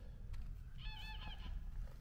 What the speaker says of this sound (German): Ui, das sind Gänse.